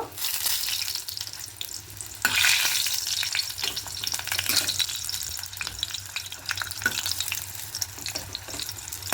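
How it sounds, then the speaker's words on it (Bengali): Oats tikki patties with white sesame seeds fry and get flipped in hot oil, a dense, close, continuous sizzle with bright crackling bursts and faint scraping. "এই পিঠটা উল্টে একটু লাল লাল করে ভেজে নেব"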